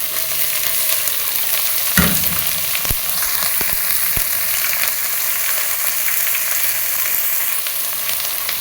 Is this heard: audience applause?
no